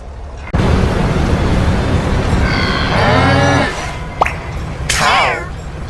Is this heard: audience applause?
no